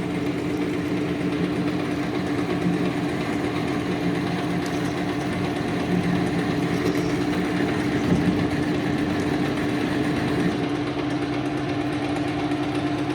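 An old lathe runs in a workshop with a steady, continuous mechanical hum and a constant tonal drone, close and unbroken throughout, with no talking.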